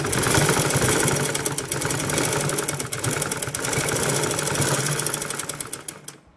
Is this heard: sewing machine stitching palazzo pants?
yes